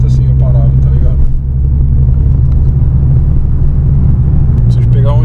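A steady low engine and exhaust drone inside a Volkswagen Passat CC cabin fitted with Barenwald mufflers, constant and fairly loud, with a voice talking over it.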